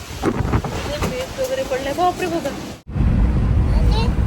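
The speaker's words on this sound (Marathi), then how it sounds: "तर बघू शकता पाऊस खूप येत आहे बापरे आणि असं हवा सुटलेली आहे" Heavy rain and strong gusting wind batter a balcony, a loud, constant roar of wind and downpour with someone talking over it before a brief cut, then the wind noise returns full and close.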